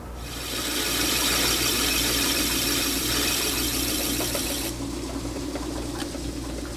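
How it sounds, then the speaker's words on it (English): Close, loud power-tool grinding and rasping as a bevel is cut on the edge of a metal faceplate for a 1931 South Bend lathe, steady and harsh for several seconds, then thinning out, with no talk. "So I'm going to cut a little bevel on that."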